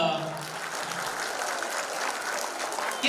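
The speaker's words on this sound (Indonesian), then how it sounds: "Tepuk tangan dong." Audience applause at a product testimonial gathering, a quiet, fairly distant patter of many hands clapping steadily for a few seconds.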